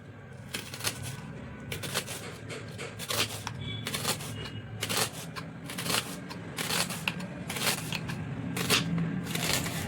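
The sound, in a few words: knife slicing onions lengthwise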